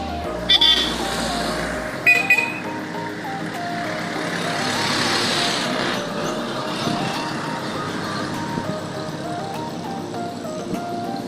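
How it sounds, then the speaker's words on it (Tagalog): Highway traffic heard from a moving vehicle: a steady, loud roadway rumble and passing vehicle noise fill the whole stretch, with a few sharp knocks near the start. "Dito na ako sa highway."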